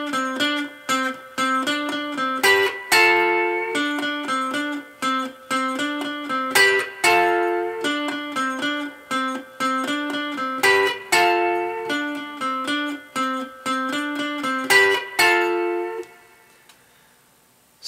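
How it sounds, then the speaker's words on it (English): A slightly distorted electric guitar plays a riff. The repeating figure is loud and rhythmic, with punchy picked notes that ring out at the end, and no talking. "we've got some slightly distorted guitar tone."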